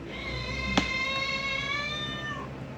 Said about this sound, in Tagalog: Yung pusa maingay ay.